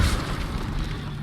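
An Incendio fire spell cast in the video game Hogwarts Legacy bursts with a deep whooshing boom at the start, then settles into a steady low roar of flame.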